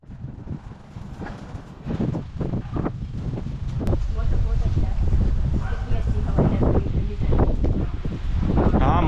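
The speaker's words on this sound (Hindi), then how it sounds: "लेकिन अभी जो है काफ़ी हवा चल रही है।" Outdoor wind blows in strong gusts against the microphone on a walk after rain, a rumbling buffet that builds and stays loud, with people talking over it.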